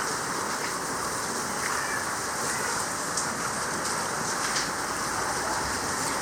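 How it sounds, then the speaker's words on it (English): Rain from a typhoon falls steadily outside near a garden of potted succulents, a constant dense hiss with occasional louder drops, even throughout and without talk. "it's raining and I hate it"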